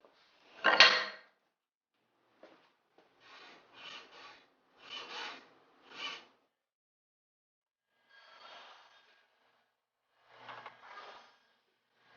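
A file rasps back and forth while rounding over the notches of a wooden leveling bar, giving one loud opening stroke and then several shorter, quieter bursts of strokes with pauses between them, close up and with no talk.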